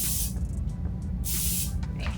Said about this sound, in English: Spray the pan down with this cooking spray